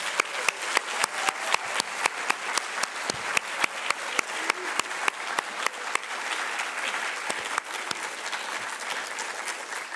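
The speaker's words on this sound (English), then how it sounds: "Can we get a round of applause one more time for the class of 2021?" A high school senior awards audience gives the class of 2021 a long round of steady applause, many hands clapping together in a dense, even roar that carries on without pause.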